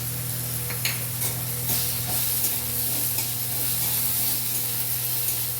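Ground ginger hitting hot oil seasoned with two bay leaves in a pan, a steady moderate sizzle and hiss with light clinks of stirring over a low background hum.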